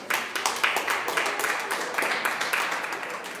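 A church congregation claps together in dense, steady applause, close and fairly loud, holding evenly across the whole stretch.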